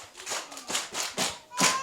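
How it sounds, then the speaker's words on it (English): Kindergarten and first-grade children clap in rhythmic bursts about every half second at a shelter handover event, and voices can be heard alongside the clapping. "Clap for yourselves."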